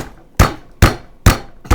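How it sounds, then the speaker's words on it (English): Four sharp, evenly spaced hammer blows on a small metal alcohol stove wall, pounded down over a block of wood, close and loud with brief metallic decay between strikes. "And you want to just hammer it down."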